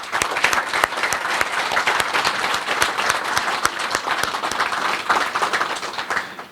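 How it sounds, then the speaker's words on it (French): An audience applauds the outgoing Prime Minister at a handover ceremony, with dense, steady clapping from a sizeable crowd that stays loud and continuous throughout. "je voudrais donc rendre un vibrant hommage en vous demandant d'applaudir pour le Premier ministre"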